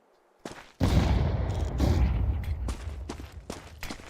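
A grenade goes off in a shooter video game as a sudden loud blast that trails into a rumbling roar, with sharp shots cracking afterward.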